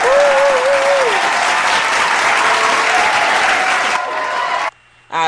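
Loud, dense applause and cheering from a crowd plays on a podcast, steady for about four seconds, then fades down and cuts to a brief silence near the end.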